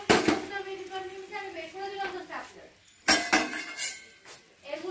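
Curry being stirred in a metal pot, with a spoon scraping and clanking against the sides in uneven bursts and a brief pause partway through; a few sharp clinks stand out near the close.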